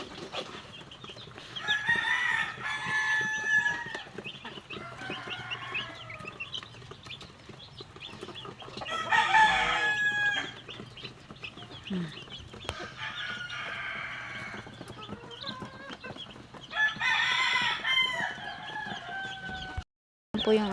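Chickens clucking and a rooster crowing at a newly bought flock of backyard fowl, several bursts of crowing and clucking recurring over steady farmyard background, fairly close, no talk.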